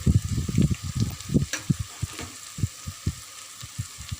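Broad beans and fenugreek leaves with salt and chilli powder fry in a pan under a soft hiss, while a spoon stirs them in a run of rhythmic dull knocks and scrapes.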